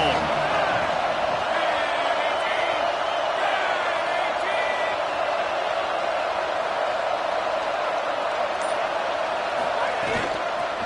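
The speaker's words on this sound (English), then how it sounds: "This crowd ready to make its presence known." Football stadium crowd roars steadily throughout at a scrimmage, a dense sustained wash of cheering with faint whoops on top.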